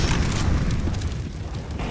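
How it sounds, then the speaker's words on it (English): Flashbang grenade going off in CS:GO during a pro tournament match, a loud, close boom up front that trails into a rumbling wash of noise and fades slightly toward the end. "Here comes the flashbang from Shoxy, looking to mow them down here."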